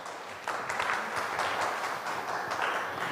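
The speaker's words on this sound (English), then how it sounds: "Big round of applause for our sponsors and supporters." A festival audience at a women's poetry event breaks into applause, which starts abruptly after a brief quiet moment and then holds as a steady, moderately loud clapping texture.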